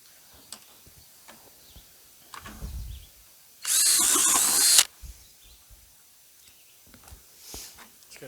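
A power drill bores a hole in a homemade chicken waterer, a single loud, close whirring burst of about one second, preceded and followed by quiet handling taps and clicks.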